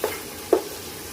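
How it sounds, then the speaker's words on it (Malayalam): Spices sautéing in a pan for mutton dum biryani, with two short stirring scrapes amid a faint, steady sizzle, close by and without talk. "ഒന്ന് വഴറ്റാം."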